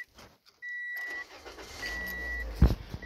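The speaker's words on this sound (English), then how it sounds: "starting the car with two hands" A car engine cranks and starts, with a brief whine at first and then a steady low rumble that builds into a loud catch near the end, close by with no talking.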